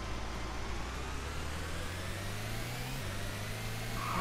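A car engine drones steadily in the racing game Car Constructor, a loud continuous hum that holds one pitch, then shifts slightly as the car speeds along.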